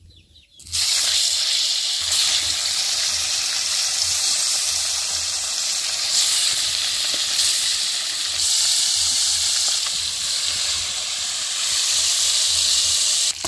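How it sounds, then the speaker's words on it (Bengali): Rupchanda pomfret fish dropped into hot mustard oil in a kadai, a loud continuous close sizzle and hiss that starts suddenly and stays steady throughout. "বন্ধুরা তেল গরম হয়েছে, তো এখন আমি মাছ দিয়ে দিব একটা একটা করে"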